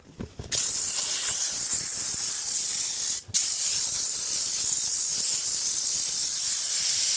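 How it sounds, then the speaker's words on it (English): A steam cleaner works on the seats of a dirty seven-seat Tesla, giving a loud, steady, close hiss that breaks off briefly twice before carrying on alone without talk. "now the seats have been steam cleaned"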